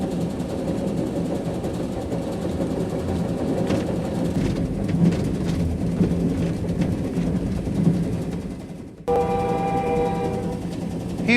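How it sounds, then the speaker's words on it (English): A locomotive on a long prairie train crossing Canada rumbles steadily, then its powerful air horns blare in a sustained, chord-like blast near the end, loud and close. "Every time the train approached a road or path, the driver had to sound the loco's powerful air horns."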